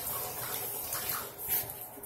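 Water runs steadily while a bathtub is scrubbed and cleaned after a shower, a constant hiss of moderate, fairly faint flow with a few swells and no talking.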